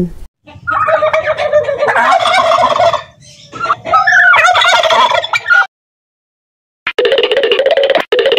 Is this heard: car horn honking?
no